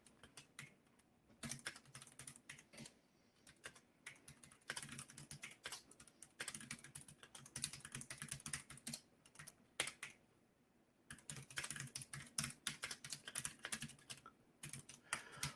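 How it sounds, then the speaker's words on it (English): Typing on a computer keyboard during a coding session, rapid clattering keystrokes in long bursts broken by brief pauses, close and quiet with no voices. "almost done typing"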